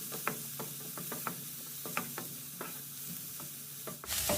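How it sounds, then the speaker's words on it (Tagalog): Onion and garlic sauté in butter and oil in a pan, with a soft steady sizzle and repeated scraping clicks of stirring at close range, fairly quiet throughout. "Igisa natin ang sibuyas at bawang."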